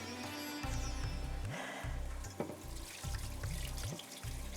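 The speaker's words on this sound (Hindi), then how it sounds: "इसका मैं पानी निकाल देती हूँ" Water drains from half a kilogram of soaked rice in a home kitchen, with a steady running rush broken by gurgling pulses and splashes. The sound is close and continuous, with no voices.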